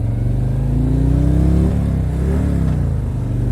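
A 2018 Harley-Davidson Ultra Limited motorcycle with a 107 engine revs in neutral: a loud, close, continuous throbbing rumble that climbs in pitch, eases off, then rises again briefly.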